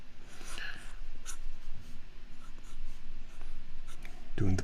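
Pencil sketching on paper while drawing cartoonish heads and animals. Scratchy strokes come in short, irregular bursts, close and fairly quiet, with faint talk in the background.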